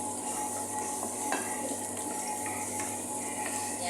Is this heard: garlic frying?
yes